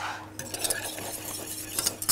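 A saucepan and metal utensils clink and scrape while a gelatin insert is made for a caramel and apricot jelly Yule log, giving irregular sharp taps and knocks against a quiet kitchen background.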